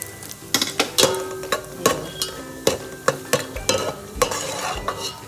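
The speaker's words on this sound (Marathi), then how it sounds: "चला आपण आता फोडणीमध्ये फ्राय करून घेणार आहोत" Vegetables fry in a hot tempering for veg pulao, with a spoon scraping and stirring the pan in a steady series of sharp clinks over a soft continuous sizzle, close up and with no talking.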